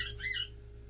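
A pet bird gives a short pair of high chirps close by over a low steady background hum.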